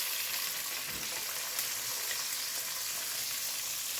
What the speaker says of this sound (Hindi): इसको अच्छे से हम ब्राउन करेंगे, रोस्ट करेंगे प्याज को